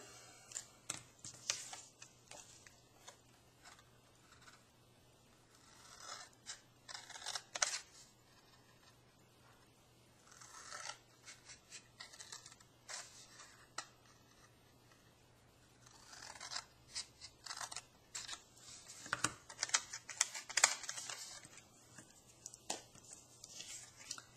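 Scissors cut card stock for a handmade card in short, crisp snips and slicing strokes. They come in scattered bursts with quiet pauses between them and sound close and fairly faint.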